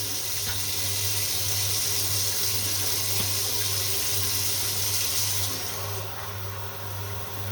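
Cold water runs steadily from a tap into a sink, a close continuous splashing stream over a low hum with no talking.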